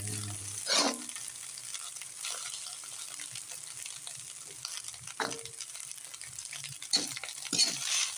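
Leftover rice being fried in a pan for Filipino sinangag, a steady soft sizzle broken by occasional scraping and stirring strokes, close by with no talk.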